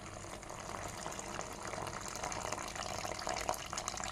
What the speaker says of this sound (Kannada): ಇನ್ನು ಇದಕ್ಕೆ ಉಪ್ಪು ನೀರನ್ನು ಹಾಕ್ತೇನೆ